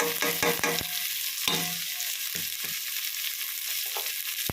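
Ingredients for paneer fried rice sauté in a hot pan with a loud, steady sizzle, broken by quick clattering strokes of a spoon stirring and scraping, heard up close with no talking.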